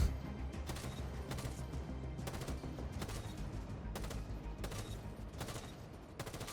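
Automatic gunfire sprays in Rainbow Six Siege during aim practice at a shooting range. Bursts of loud, close shots repeat across the whole stretch with no talk.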